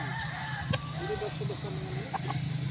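Fighting roosters on a farm cluck and call in short bursts, close by, against a steady background of other fowl and faint farm noise.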